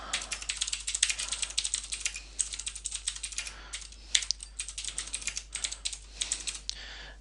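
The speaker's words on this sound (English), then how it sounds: "as I type" Steady, rapid keystrokes on a computer keyboard continue for several seconds in uneven bursts with brief pauses, close and clear, with no talking.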